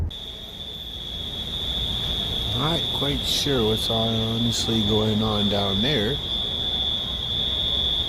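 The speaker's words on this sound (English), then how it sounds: "some kind of, I don't know, alarm or something just started going off." A steady high-pitched electronic alarm tone sounds at an airport, droning without a break the whole time while someone talks over it in the foreground.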